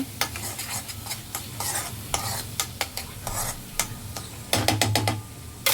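Water added to a mackerel fish curry in hot oil in a home kitchen gives a quiet, steady sizzle, broken by repeated sharp clicks and taps of a spoon against the pan, with no talk.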